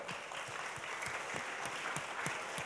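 Audience applause during a student Q&A session, many hands clapping at a moderate distance, even and sustained with scattered sharper claps, fairly quiet overall.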